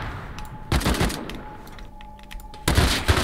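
MP5 submachine gun fire in a video game base raid: several loud, rapid bursts of automatic shots, separated by short pauses, with steady background noise between them.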